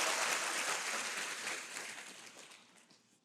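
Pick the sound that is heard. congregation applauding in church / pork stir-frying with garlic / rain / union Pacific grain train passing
congregation applauding in church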